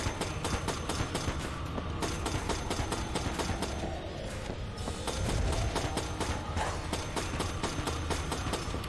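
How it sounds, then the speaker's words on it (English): Rapid gunfire from the Enter the Gungeon video game rattles on steadily as a dense, continuous stream of shots over busy game music and effects throughout. "You're still shooting!"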